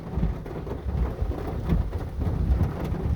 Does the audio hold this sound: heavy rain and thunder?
yes